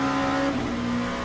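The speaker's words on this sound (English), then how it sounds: "Locking the tyres up." A race car in the Le Mans Ultimate racing game brakes hard with its tyres locking up, a brief tonal tyre squeal riding over the engine drone, loud and close with no talking.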